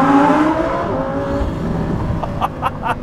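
A Lamborghini Huracan STO's V10 engine roars as the car accelerates through a tunnel, a loud, dense rumble with reverberating exhaust and a few sharp higher bursts near the end.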